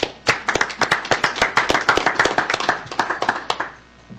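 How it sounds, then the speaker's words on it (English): Applause at a school board meeting: a small group claps in sharp, distinct hand strikes that are fairly close, forming a brisk irregular rhythm that thins out and stops after about four seconds. "Another round of applause for you."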